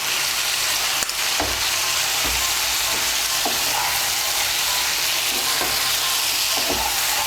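Mustard paste being stirred into fried vegetables in a pan for Bengali sukto, a loud continuous sizzle with periodic spatula scrapes and a sharp knock near the start, no talk.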